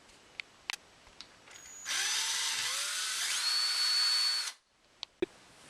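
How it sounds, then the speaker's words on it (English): A power drill whines steadily for a few seconds, drilling a hole into the back of a Nerf Nite Finder blaster, its pitch rising partway through, with faint clicks and taps before and after. "We're also going to need to drill a hole straight into the back of this."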